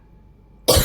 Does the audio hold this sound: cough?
yes